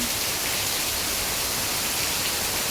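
Heavy rain falls in Pondicherry as a dense, steady hiss that stays loud and even throughout, with no voices.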